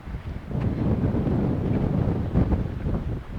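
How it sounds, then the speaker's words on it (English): Wind blows across an exposed ridge at an ancient hiking site, a loud, gusty rumble buffeting the microphone in swells with no voices. "This wind that has a starring role in this video has been blowing across this ridge for thousands of years."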